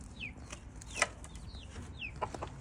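A chicken on a small homestead with a chicken coop and hoop house, giving soft, short clucks and a few higher squawking calls, close and moderately quiet over a steady low background hum.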